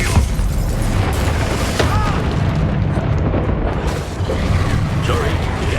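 Confringo fire spell blasts in the video game Hogwarts Legacy, dense booming explosions and crackling bursts filling the whole clip, loud and continuous with game sound layered in.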